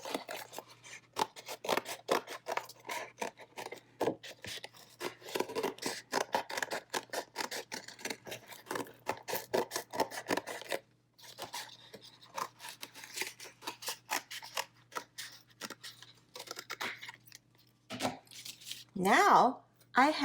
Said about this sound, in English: Next, I'll use my scissors and very carefully cut around the inside of my square.